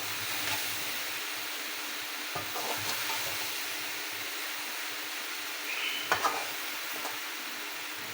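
Okra (bhindi) cooking slowly in a pan over a low flame makes a soft, continuous sizzle and hiss, with a few faint clinks of stirring.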